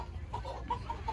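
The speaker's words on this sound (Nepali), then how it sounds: "कुखुराको गोदाम छ यहाँनिर" Chickens cluck in a poultry shed on a chicken farm, several short, soft clucks in quick succession over a low background rumble.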